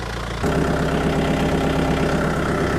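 A tractor engine catches and settles into a loud, steady idle with a low rhythmic thrum, close by and running alone without talk.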